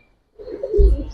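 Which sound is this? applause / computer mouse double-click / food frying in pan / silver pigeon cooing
silver pigeon cooing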